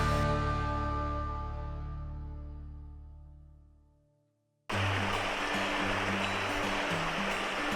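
Stream flowing beside a forest campsite near Warren, Idaho, a steady, full rushing wash of water that cuts in abruptly after a fading tone and continues loud and close.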